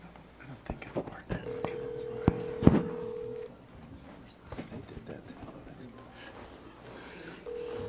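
Touch-tone keypad beeps as a phone number is dialed to call a participant into a city commission meeting, a quick run of short tones with a brief held tone, over faint room noise and murmuring voices.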